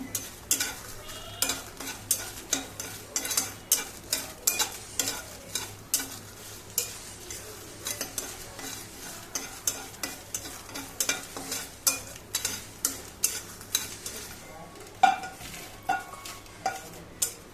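Steady stirring of chilies frying in a hot pan with crackling sizzle, a spatula scraping in a regular rhythm of strokes, close up, no talking.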